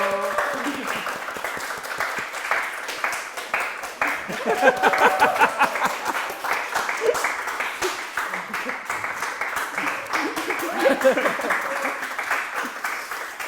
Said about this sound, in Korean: 저희 그러면 한번 큰 박수로 모셔볼까요